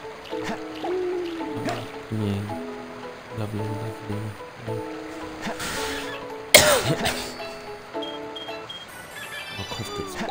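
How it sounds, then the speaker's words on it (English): A person coughs, one sharp, loud burst standing out over the steady melodic music and sound effects of the Sonic Adventure 2 Battle video game. "My cough gets worse at night."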